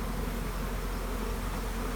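Honey bees swarm around an apiary yard during heavy robbing, a dense, continuous, loud buzzing hum from many insects close by, with no pauses.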